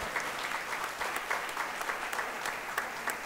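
An audience at a verseadores event applauds, a continuous, fairly faint wash of clapping heard from a distance for a few seconds.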